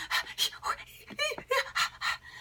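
A person imitates rapid, frantic panting, like someone fleeing a tiger, with quick, loud breaths in and out close to the microphone in a steady, hurried rhythm.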